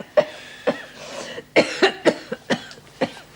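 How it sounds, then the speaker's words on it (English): A woman coughs in a prison setting: about eight sharp, hacking coughs come in uneven bursts, close and clear, with brief quiet gaps between them. "How long have you had that cough?"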